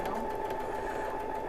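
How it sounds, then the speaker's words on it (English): A sewing machine runs steadily as fabric is stitched on the diagonal for a quilt, a continuous close whirring hum with no break across the short stretch. "Lisa, do you have any tips on not stretching your fabric when you're sewing on the diagonal?"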